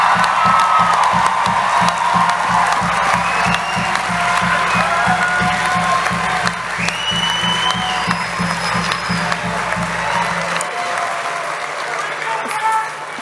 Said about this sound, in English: give one more huge round of applause and celebration to this year's Sandy High School class of 2022